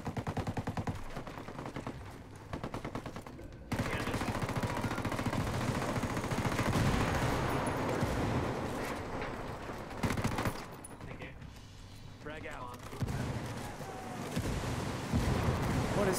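Video game Ghost Recon Wildlands combat with bursts of automatic gunfire and explosions, dense and continuous rattling shots with booming blasts, loud throughout with brief lulls.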